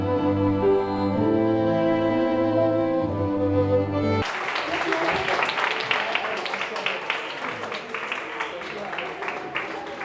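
A crowd bursts into sustained, dense applause that cuts in sharply as music ends and carries on loud and steady to the close.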